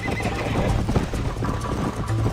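In the video game Red Dead Redemption, a horse whinnies while its hooves pound in a fast gallop, loud and close, with no talk over it.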